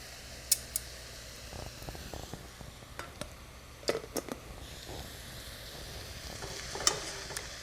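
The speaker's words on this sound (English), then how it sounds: "we're just gonna saute them rather briefly, but we're gonna get them tender" Chopped chanterelle mushrooms sautéing briefly in a pan, a faint steady sizzle with scattered clicks and scrapes of stirring, close and without talk.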